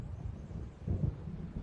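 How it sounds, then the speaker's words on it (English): A low, rolling rumble of thunder from an approaching storm in the Alan Wake video game, a brief muffled swell over a constant low background with no voices. "It seems there's a storm coming."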